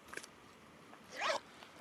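Zipper on the back pocket of a red leather Coach purse, a single quick zip pulled close and quiet after a small rustle, with no talking.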